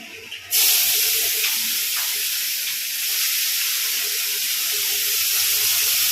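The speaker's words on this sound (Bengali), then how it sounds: "যতক্ষণ পেঁয়াজটা একটু লাল লাল করে না ভাজা হচ্ছে" Chopped onions hit hot oil with cinnamon and clove, bursting into a sudden loud sizzle that holds as a steady, close hiss of frying with no talk over it.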